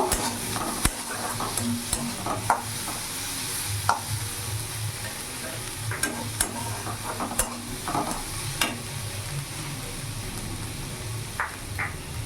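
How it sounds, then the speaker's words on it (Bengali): Four or five chopped green chillies fry in a hot pan with a steady crackling sizzle, punctuated by sharp clacks of a spatula stirring against the metal; no voices. "একটু ভাজা ভাজা করে নেব"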